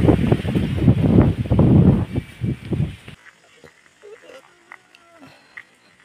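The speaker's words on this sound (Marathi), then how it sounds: "मस्त वारं लागतंय" Outdoors near Veral, Mandangad, strong wind buffets the microphone in loud, gusty low rumbles for about three seconds, then drops away to near quiet with only faint scattered sounds, and a voice is present.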